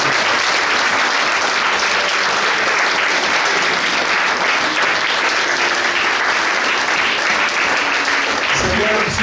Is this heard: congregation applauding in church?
yes